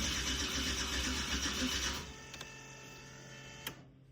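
An electric fuel pump primes in a turbocharged Chevrolet Silverado pickup, a steady whirring buzz for about two seconds that cuts off, leaving a faint hum and a couple of small clicks.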